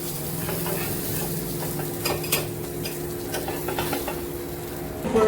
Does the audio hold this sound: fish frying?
yes